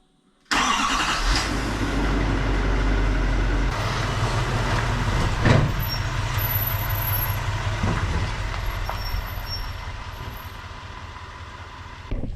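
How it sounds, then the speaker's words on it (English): A pickup truck engine cranks and catches, then idles and rumbles steadily at close range as the truck is moved, the engine note easing slightly toward the end; no voices are heard. "let's move this truck"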